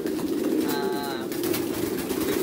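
Pigeons raised on a farm give soft, throaty coos, one close call rolling over a steady low hum of background noise.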